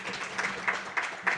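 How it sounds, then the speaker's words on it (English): Applause from a conference audience at an innovation and technology forum, fairly faint and distant-sounding, a soft wash of clapping with a few louder claps standing out now and then. "Once again, let's give him a round of applause."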